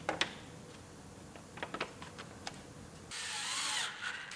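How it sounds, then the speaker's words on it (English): Screws being fastened on an Acura RDX during reassembly: faint scattered clicks and taps, then a brief steady whir of a power driver near the end, fairly quiet overall. "Now we're ready to put all of our screws in."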